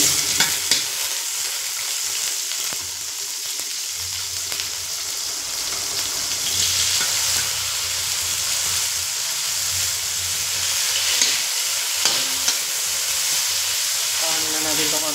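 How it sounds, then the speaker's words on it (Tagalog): Ingredients sautéing in a hot pan while being stirred: a continuous loud sizzle and hiss with scraping stir strokes throughout, near and steady, with a voice faint in the background. "Gigisa muna natin."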